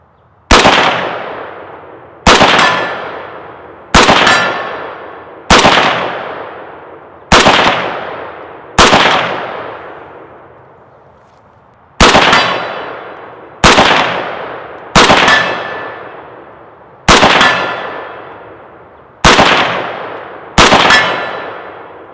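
An AK rifle fires twelve single shots at a steel target, each sharp crack followed by a ringing metallic clang, spaced about 1.5 seconds apart with one longer pause, loud and close.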